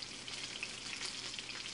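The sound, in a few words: chicken tenders frying in a little oil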